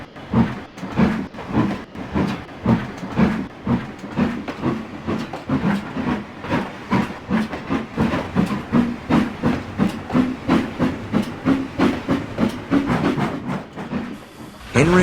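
A steam engine from a Trainz railway game sets off, with a steady rhythm of loud chuffs that quicken slightly as it gets under way. Talk runs over the puffing throughout.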